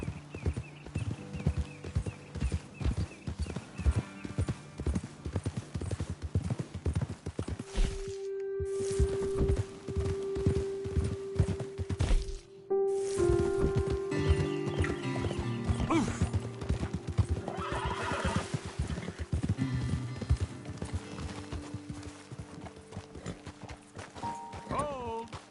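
Horses clip-clop at a steady walk across rough ground in Red Dead Redemption 2, with a loud neigh midway, hooves and tack sounds close and continuous, and game ambience underneath.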